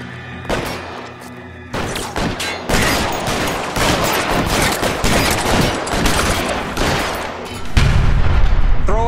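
Gunfire rings out in LA Noire during a police shootout, a dense fusillade of sharp, loud cracks in rapid irregular bursts over about nine seconds, with a deeper rumbling blast near the end.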